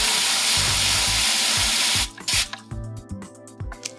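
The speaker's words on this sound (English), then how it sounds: "let's wash all our brushes, rollers, and other tools with water" Brushes, rollers and other tools used for ColourCrete concrete coating are rinsed with water: a steady, loud rush of spraying water for about two seconds, then quieter splashing and dripping with scattered clatters.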